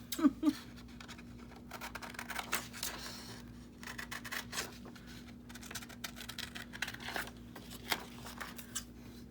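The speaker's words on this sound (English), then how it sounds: "Let's use bigger scissors." Scissors snip and crunch through paper in short, uneven bursts close by, with soft rustling and a faint steady hum underneath.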